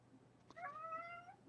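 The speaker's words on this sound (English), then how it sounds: "Nope, David's a cat" A cat gives one clear meow lasting under a second, moderately close but soft, against a quiet indoor background.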